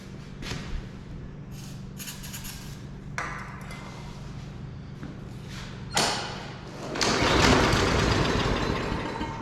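A small engine being cranked after a shot of ether, with thumps and brief mechanical rattles, then a louder rough sputtering run that swells near the end.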